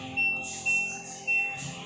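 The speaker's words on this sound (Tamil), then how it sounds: "இப்போ இது வந்து பீப் சவுண்ட் வருது பார்த்தீங்களா" An LG 7 kg front-load washing machine (model FHV1207BWP) gives three short, clear electronic beeps at a steady rhythm over a low background hum.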